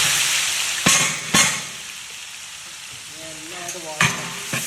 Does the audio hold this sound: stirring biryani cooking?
yes